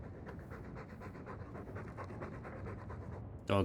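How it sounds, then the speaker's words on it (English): A dog pants rhythmically and steadily in the Dragon Age II video game, quick close breaths continuing for several seconds before a brief louder burst at the end. "All that noisy dog breath, day in, day out."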